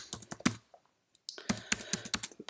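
Rapid clicking keystrokes on a computer keyboard, close and clear, in two bursts separated by a short pause of near silence.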